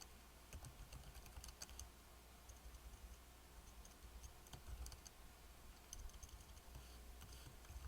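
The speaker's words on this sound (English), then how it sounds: "Let's see if I can type a little better this time." Steady typing on a computer keyboard, with quick clusters of small clicks and taps running throughout at close range.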